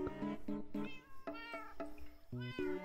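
A Minecraft cat meows repeatedly in a run of short, clear, close cries, about eight in under three seconds with brief gaps between them.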